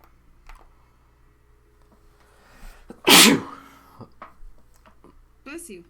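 One sharp, loud sneeze bursts out in a quiet room, with faint talking and small background noises around it.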